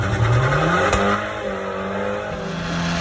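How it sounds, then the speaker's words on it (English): Abarth 695 70th Anniversario hot hatch driven hard on a tight, twisty hill climb course, engine revving up loudly and holding a strained, rising drone nearby. "I had the chance to really unleash this car and drive it like an absolute hooligan"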